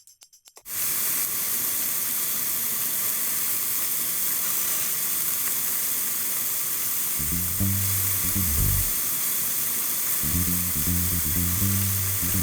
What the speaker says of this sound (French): Le filet de poulet est ensuite à faire frire.